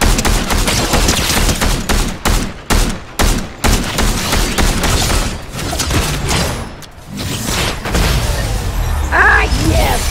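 Sustained automatic gunfire in a Fortnite zero build squads match, with loud continuous bursts broken by brief pauses and occasional booms, while players talk over the shooting.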